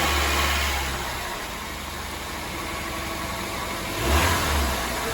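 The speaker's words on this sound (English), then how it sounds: "That right there is the Blue Saturn engine running in another car." A Saturn engine swapped into another car runs at a steady idle, then blips into a short rev near the end, a moderate, close mechanical hum with no voices.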